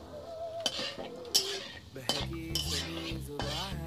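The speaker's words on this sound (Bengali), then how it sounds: "এবার এটাকে আমি নাড়াচাড়া করে নেব।" Stirring fried rice in a pan with a metal utensil, heard as close scraping and clinking strokes, irregular and moderately loud, with faint background sounds underneath.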